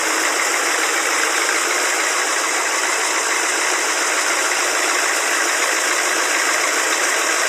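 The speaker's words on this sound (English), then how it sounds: "41 years old, United States Army truck. M1008. Fully restored engine." A restored 1986 Chevrolet M1008 United States Army truck engine runs steadily at idle, a continuous close mechanical hum with light rattle and no pauses, alone without voices.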